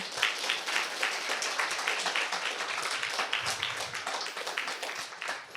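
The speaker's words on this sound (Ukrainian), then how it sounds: "Оплески." Dense audience applause fills a conference hall after a startup talk, sustained many-handed clapping holding steady and loud throughout with no voices over it.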